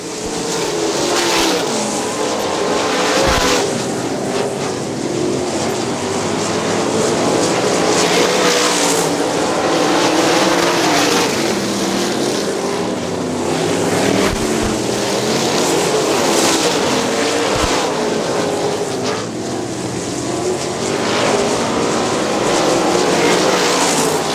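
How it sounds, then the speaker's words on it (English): 410 sprint car engines roar continuously and loudly at Butler, whining and revving as cars sweep past in repeated waves during a race, with no talking. "White flag out for your leader in a 55J car, Chuck Wilson."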